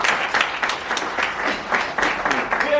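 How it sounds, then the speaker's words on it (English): An audience clapping at a public speaking championship grand finale, steady dense applause filling the hall for a few seconds at moderate loudness. "Clap hands for Zimbabwe."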